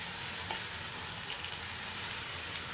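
Meat in a tajine sizzles and fries steadily on a stovetop burner while being stirred and turned, a dense continuous crackle close up with a faint scrape of stirring, no voices.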